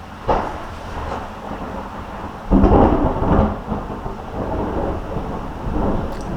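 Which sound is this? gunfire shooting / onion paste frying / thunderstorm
thunderstorm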